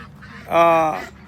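White ducks being fed let out one short, nasal, honking quack close by, rising out of quiet background noise.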